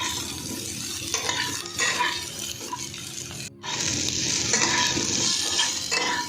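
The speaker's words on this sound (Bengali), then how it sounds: "তারপর আমি আলুটা দিয়ে আবারও ভেজে নিচ্ছি।" Potatoes frying in oil alongside cauliflower in a pan, with a steady, close sizzle and occasional stirring scrapes that continue throughout.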